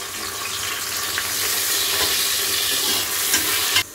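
Chopped onion sizzles in hot oil inside a pressure cooker, a steady, loud, close frying hiss that swells slightly as it settles, with no talking.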